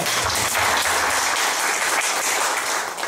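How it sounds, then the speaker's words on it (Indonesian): A crowd applauding at a school accreditation event, with dense, loud, sustained clapping for a few seconds. "Ya, terima kasih Pak Asyik. Aplaus"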